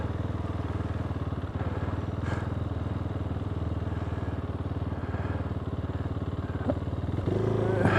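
A KTM 390 Duke single-cylinder engine drones steadily while riding, a loud continuous thrumming with wind rush, rising slightly near the end as the throttle opens.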